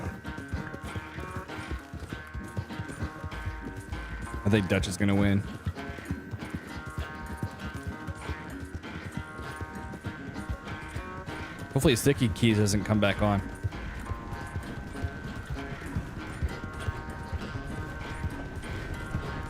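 Rhythmic hoofbeats of a galloping horse in Red Dead Redemption 2, with two louder bursts of clattering, while people talk over it.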